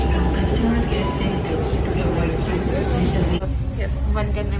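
Kashmere Gate interchange metro station in Delhi fills with a loud, steady rumble of trains and platform machinery, a dense roar that shifts slightly near the end, with people talking and a crowd murmuring underneath.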